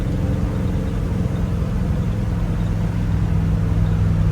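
A 1957 Chevy Bel Air two-door Sport Coupe restomod rumbles with a deep, steady engine drone while driving, holding loud and close and swelling slightly toward the end.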